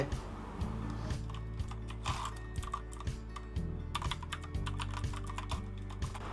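Steady, close typing on a computer keyboard, with rapid key clicks and clacks throughout and no voices.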